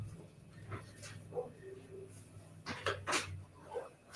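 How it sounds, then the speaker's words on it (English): A dog outside barks and whimpers in scattered, fairly distant bursts over a low background hum. "Somebody dog out there going crazy."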